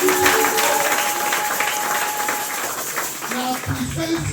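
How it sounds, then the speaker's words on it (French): A church congregation bursts into sustained applause and cheering that fills the room, with voices calling out through the clapping. "Acclamons pour l'Éternel."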